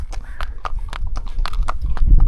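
Horse hooves clip-clopping on a mountain trail in the Caucasus in Georgia at about 2000 m altitude, a close, steady series of hoof strikes with a rumbling low background.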